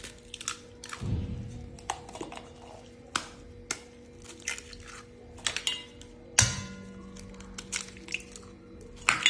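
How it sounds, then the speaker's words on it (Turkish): Three eggs cracked against a bowl in a home kitchen while making Bosnian dudove dessert, heard as a few sharp, close taps and cracks among quieter clicks and handling noise, with no talking. "3 tane yumurtamızı kırıyoruz."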